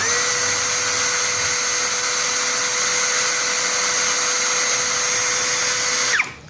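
Kyoal 16V brushless cordless drill spinning steadily at its lowest speed setting, a loud, even motor whine held for about six seconds before it winds down.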